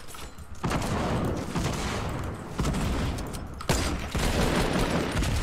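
Bursts of rapid gunfire fill a Fortnite match, loud and dense throughout with sharp blasts layered over one another and only brief dips between volleys.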